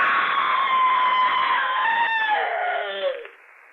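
A long, loud sustained scream used as a sound effect in an old horror radio drama, holding steady then sliding downward in pitch before cutting off abruptly.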